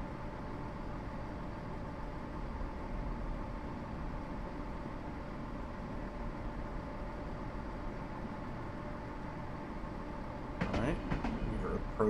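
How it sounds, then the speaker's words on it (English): A Class 170 DMU train in Train Simulator 2015 slows into a station, with a steady low engine and rolling rumble throughout and a short burst of clattering near the end. "We're once again approaching at 25 miles an hour. Bring the train to a stop as before."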